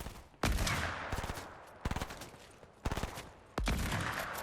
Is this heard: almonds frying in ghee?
no